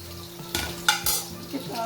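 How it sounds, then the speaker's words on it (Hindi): Onions tipped into hot oil and ghee, with a sharp clatter of a utensil against the pan and a light sizzle underneath, a few quick knocks in under two seconds. "हमारा जो ऑयल और घी गर्म हो चुका है, अब हम इसमें शामिल करेंगे ये हमारे प्याज को लाइट ब्राउन करेंगे"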